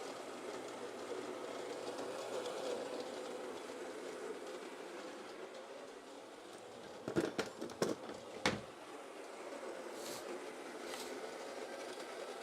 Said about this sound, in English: We're just grinding our beans